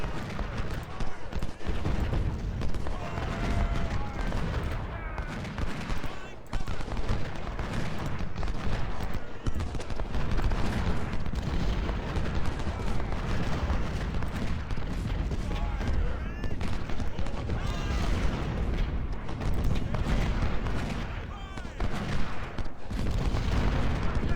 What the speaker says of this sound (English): We're about to get a bunch more artillery going.